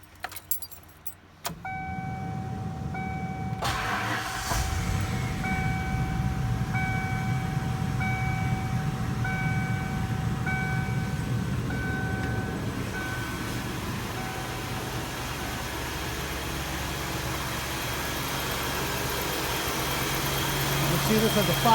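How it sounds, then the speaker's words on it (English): Keys jangle before a 1992 Ford Thunderbird LX with a 5.0 V8 cranks and starts, then settles into a steady, rumbling idle nearby with a faint whining tone on top. "Okay, now for the engine startup test."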